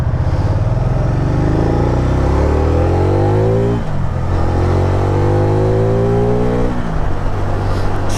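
A 2010 Can-Am Spyder RT SM5 engine revs loudly up close, rising through the range twice with a gear-shift dip between, a strong continuous motor roar.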